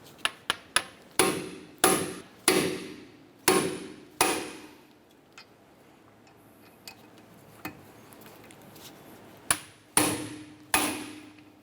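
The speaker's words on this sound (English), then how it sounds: "We're going to use our impact driver." Impact driver loosening the brake caliper screws on a Honda Accord: a run of sharp, loud hammering bursts in quick clusters, a quieter stretch with scattered faint clicks, then several more strong rattling hits close by.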